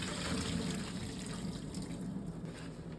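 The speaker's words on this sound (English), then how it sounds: "All right, so time to strain this." Water is strained off boiled potato cubes, a close, continuous rushing pour that splashes steadily into a sink for a few seconds, with no speech.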